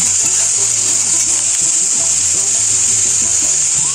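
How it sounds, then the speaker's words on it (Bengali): Potato and eggplant pieces are turned together in a hot pan of frying bitter gourd for a Bengali chorchori, producing a continuous loud sizzle with faint scrapes of stirring throughout. "আলু আর বেগুনগুলো একসাথে অল্প একটু নেড়ে নেব"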